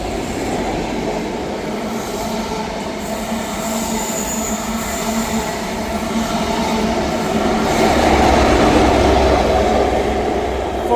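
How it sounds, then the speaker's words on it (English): Scotrail HST passing through Inverkeithing station on an Aberdeen to Edinburgh Waverley service, a steady rumble of wheels and rail noise that swells louder toward the end, with faint squeal; no talk. "Passing through now is a Scotrail service from Aberdeen to Edinburgh Waverley."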